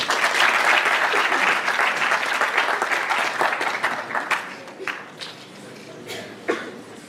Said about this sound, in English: Please join me in giving a warm round of applause to Ms.